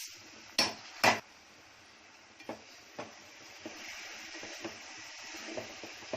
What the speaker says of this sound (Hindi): अब उसमें चावल धो के डाल रही हूँ बघारने के लिए।